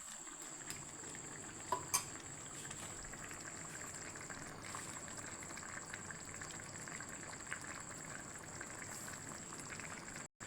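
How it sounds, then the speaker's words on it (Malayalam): Tuna fish curry with drumsticks bubbling steadily in a pot, a soft continuous simmer with faint popping and a couple of brief clinks near the start. "അങ്ങനെ നമ്മുടെ മീൻകറി നല്ലപോലെ തിളച്ചുകൊണ്ടിരിക്കുകയാണ്."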